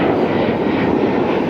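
An Air France jet aircraft on the runway at LAX, with a steady, loud engine roar and rumble held evenly throughout and no voices.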